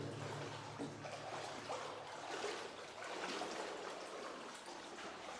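Underground spring water streams steadily through the rock-cut Hezekiah's Tunnel in the City of David, a continuous close rushing and trickling wash echoing in the narrow passage, with no talk.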